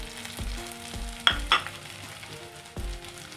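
Onion, ginger and green chili sautéing in a pan for lemon rice: a steady close sizzle with a few sharp scraping stir strokes from a spoon against the pan, and no talking.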